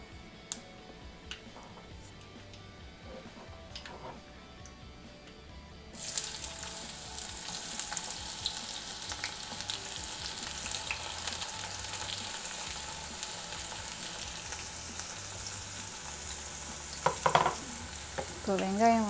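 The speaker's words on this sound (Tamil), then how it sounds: "இப்போ வெங்காயம் நல்லா வதங்கணும். ஒரு 2 நிமிஷம் இதை நல்லா வதக்கிடலாம்." Chopped onions hit hot oil with popping mustard seeds in a dosa pan, breaking into a loud continuous sizzle that carries on steadily, with occasional scraping stirs close by.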